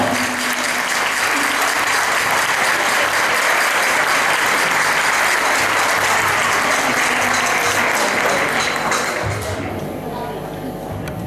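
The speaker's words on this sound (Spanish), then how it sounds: "Venga, un aplauso para ella." Loud, sustained audience applause for a singer about to perform a jota at an Aragonese folk festival, a thick crowd sound with a voice talking under it, thinning out toward the end.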